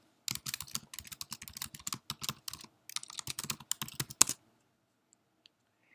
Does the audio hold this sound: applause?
no